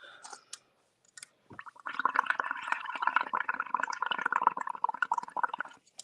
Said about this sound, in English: you put the straw in and just blow on it